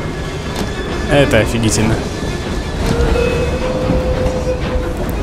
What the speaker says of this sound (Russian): Опа, прям на поезд.